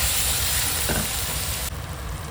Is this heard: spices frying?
yes